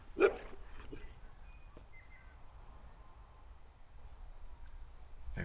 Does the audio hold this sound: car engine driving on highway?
no